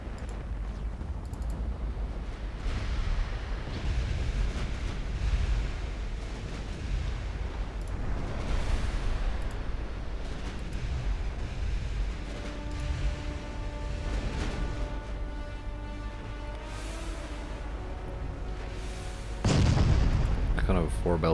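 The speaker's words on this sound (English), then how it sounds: "You're now firing at 38 kilometers." Naval gunfire at 38 km range in the warship game Ultimate Admiral Dreadnoughts: a steady rumbling bed of repeated deep booms, with a louder heavy blast near the end.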